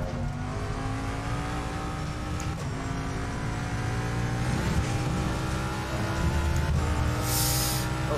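A Jaguar G3 race car in Assetto Corsa Competizione accelerates around Monza, its engine droning loudly and continuously through rising gear pulls, with faint tire noise under the steady roar.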